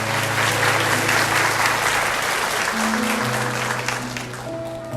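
A church congregation applauds at a Portuguese-language sermon, with loud, sustained clapping from a large crowd filling the whole moment and steady held tones sounding beneath it.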